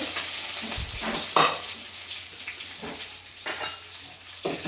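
Steady sizzling of spices frying in hot oil for a crab masala curry, with occasional louder pops and a few stirring scrapes, close up and continuous.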